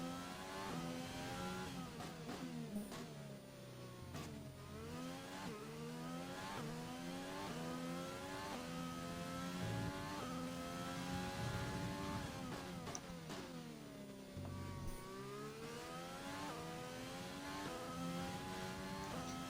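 Race car engines in an online league racing video game rev and howl continuously, pitch climbing and dropping through repeated gear shifts, loud and close with no talk.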